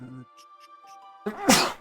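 A single sharp sneeze bursts out loudly near the end, preceded by a brief voice and some quiet tones.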